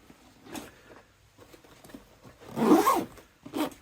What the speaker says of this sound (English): And yeah, the top, you can just zip that as well.